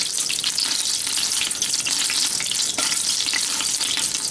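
Onions sizzle steadily in a hot pot for chicken soup, a loud, continuous crackling fry with bright spattering texture throughout and no voices.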